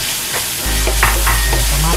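Chopped tomatoes sizzle and fry with lechon belly in a hot pan, a loud steady frying hiss kicking in after a brief pause, with stirring scrapes on top.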